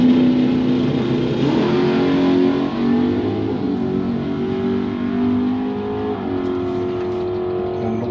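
A 2020 Genesis G70 3.3T accelerates hard in a quarter-mile drag race, running automatic in sport mode, its engine tone climbing and shifting through gears in a loud, continuous roar.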